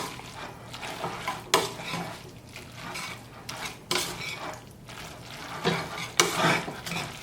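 A buttery mushroom sauce with meat juices being stirred in a pan, with soft sizzling and wet scraping strokes repeating at an uneven rhythm, close by, no talk.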